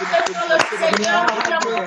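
A church congregation at an Easter service claps in praise, a steady burst of many hands applauding together while voices call out over the clapping.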